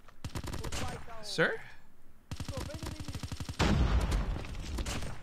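Rapid bursts of gunfire from the Call of Duty Mobile video game, in a Hardpoint match, crackle in close, loud repeated volleys with a brief pause between them, and a voice speaks once over the shooting.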